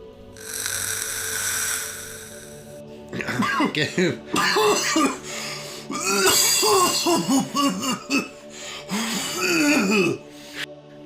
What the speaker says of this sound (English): coughs a solid wall of smoke directly into my face